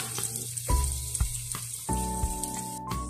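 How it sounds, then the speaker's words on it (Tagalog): Onion sizzling in a pan as ginger is added for sinampalukang manok, a Filipino chicken dish, with a loud, close, continuous frying hiss broken by a few sharp clatters and tonal clinks of a utensil against the pan. "Kapag medyo nagigisa-gisa na natin yung sibuyas, isusunod naman natin yung"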